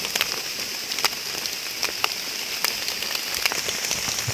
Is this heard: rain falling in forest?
yes